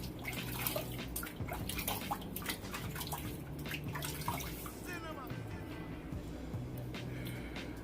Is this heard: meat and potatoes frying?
no